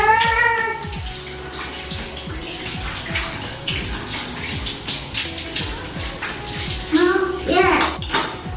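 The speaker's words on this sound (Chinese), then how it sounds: "冲吧！ 冷水澡。" Cold shower water gushes in a steady, close splashing stream, with a voice briefly heard over it at the start and end.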